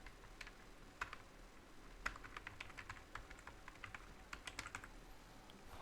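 Fingers type an email address on a computer keyboard while working in Outlook, a quiet, uneven run of light key clicks with a few sharper taps and brief pauses, heard close and alone.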